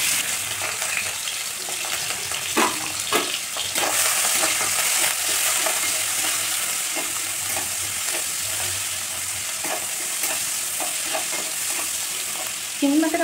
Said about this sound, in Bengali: দিয়ে আমি চিংড়ি মাছটা ভেজে নেব।